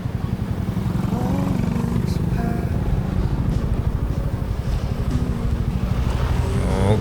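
Cars pass on a busy road in Bali on the way from Denpasar toward Bedugul, a steady close rumble of engines and traffic with faint talk in the background.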